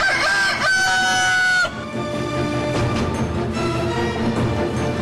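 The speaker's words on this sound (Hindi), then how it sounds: "शंकर जी ने मुर्गे का भेष धारण कर लिया और वक्त से पहले ही बांग दे दी" Rooster crowing loudly and close, one long drawn-out cock-a-doodle-doo that ends abruptly, followed by a dense noisy bed of clucking and mixed sound, with no talk.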